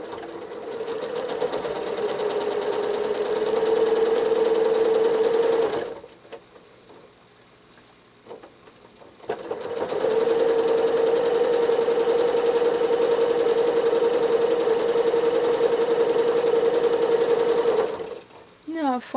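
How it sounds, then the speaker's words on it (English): A sewing machine runs steadily during free motion quilting, travel stitching along the edge of a quilt block: a loud continuous motor whir in two long bursts separated by a roughly three-second pause, with faint handling noises in the gap. "I'm going to travel stitch along the edge of this block."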